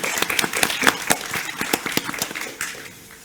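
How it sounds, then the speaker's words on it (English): A live audience at a tech accessibility event applauds the panelists, many hands clapping in a dense, steady patter that fades slightly toward the end. "Should we just give them all a round of applause before we look at questions from everyone?"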